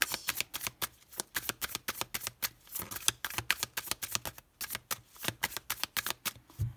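Oracle cards are shuffled by hand in a quick, steady rhythm of soft riffling slaps, close and fairly quiet, with no talking.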